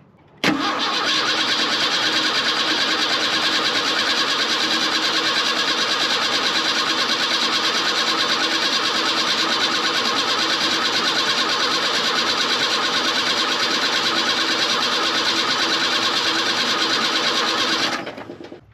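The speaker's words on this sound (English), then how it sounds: "I'm gonna crank it over with the ignition off to just see how it flows." An engine cranking over with the ignition off after a new fuel filter install, a steady continuous whir running nearly eighteen seconds at constant loudness before cutting off, with no voices.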